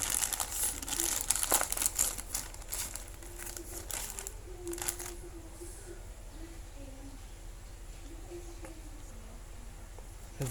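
Plastic packaging of a 5-in-1 paracord bracelet torn and crinkled open, a close busy rustle and crackle for the first few seconds that fades into quieter handling, with no talk.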